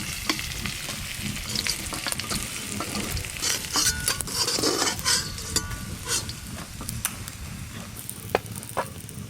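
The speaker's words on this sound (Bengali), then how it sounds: "মাছগুলো কিন্তু বেশ ভালো করে ভাজা হয়ে গেল," Pieces of snakehead (shol) fish fry in hot oil, giving a steady close sizzle with scattered clinks and scrapes of a utensil stirring in the pan.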